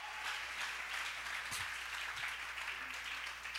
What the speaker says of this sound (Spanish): Vamos a regalarle una ofrenda de palmas al Señor de la gloria